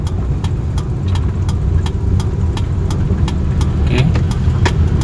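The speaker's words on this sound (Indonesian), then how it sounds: "saya akan coba menguji power steering mobil ini dengan melewati bundaran ini" A 1000 cc Kia Visto with hydraulic power steering drives through a roundabout, its engine humming steadily close by while a turn signal ticks in an even rhythm throughout.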